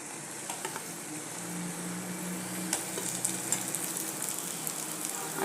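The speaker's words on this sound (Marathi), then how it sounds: "आणि वांगी याच्यामध्ये थोडं 1 अर्धा मिनिट परतून घेऊया" Brinjal (eggplant) pieces sautéing in hot oil, with a continuous close sizzle, frequent small crackles and the scrape of stirring throughout.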